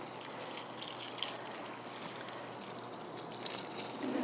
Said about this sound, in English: So there, we get that watered in,